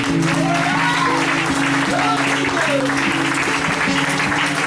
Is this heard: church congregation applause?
yes